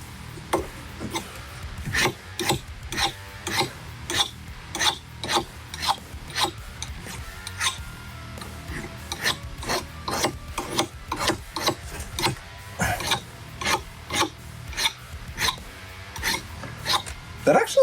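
A scraping tool drags thick, translucent paint off a painted surface in repeated rasping strokes, close and fairly loud, with a steady uneven rhythm of about two strokes per second and no talking.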